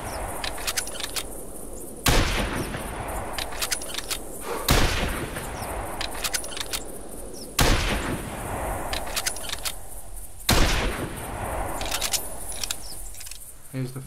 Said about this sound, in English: Now we'll take some shots with the gun